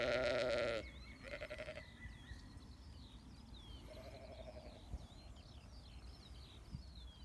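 New Zealand Romney sheep in a wet pasture bleat loudly and close, one long strained call at the start followed by shorter, fainter bleats, with small birds chirping in the background.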